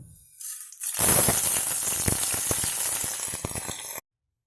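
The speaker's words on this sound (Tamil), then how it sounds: "இதெல்லாம் போட்டு தாளிக்கணும்." Loud, steady sizzling of spices, including fennel seeds and fenugreek, tempering in hot oil for a brinjal curry, with crackles and pops scattered through the hiss for several seconds before it cuts off.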